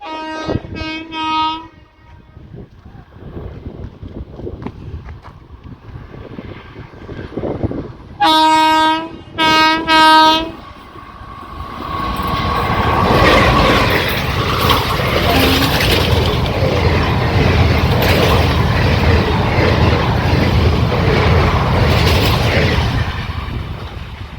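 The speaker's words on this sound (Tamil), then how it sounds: "ஸோ நாகூர் தஞ்சாவூர் வண்டி போகுது பாருங்கள்" Nagore–Thanjavur passenger train approaching near a new rail line construction site in Tamil Nadu: several loud horn blasts followed by a long, steady rumbling roar and clatter of wheels as the carriages pass close by.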